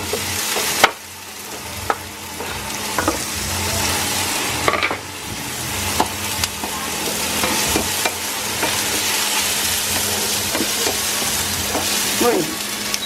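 Onions fry in cooking oil with a constant sizzle, and stirring scrapes and clatters every second or so. A faint voice sounds now and then in the background.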